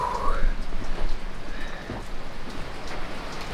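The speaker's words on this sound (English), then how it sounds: "rain there is coming down on our new canvas" Rain pattering steadily on a new taut canvas cover on a boat in Canadian winter, a dense constant hiss of drops nearby, with no talking over it.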